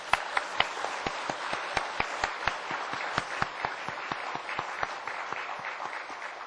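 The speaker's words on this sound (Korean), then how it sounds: "하나님 아버지께 감사의 박수로 영광을 돌리십니다" A church congregation claps together in a steady, rhythmic beat, many hands striking in unison, moderately loud and continuous throughout.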